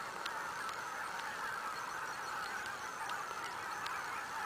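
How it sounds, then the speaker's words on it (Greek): Huge flock of geese honking in the sky during a goose hunt in Bulgaria, a dense unbroken wall of countless overlapping honks, distant but filling the air steadily. "Όπου και να κοιτάξεις τον ουρανό είναι χήνες."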